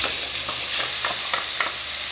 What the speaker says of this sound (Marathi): मस्त त्याला छान प्रकारे मस्त फ्राय करून घ्यायचं हे वाटण